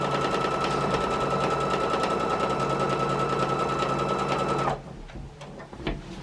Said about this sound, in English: just sew your 1/4 inch seam all the way through.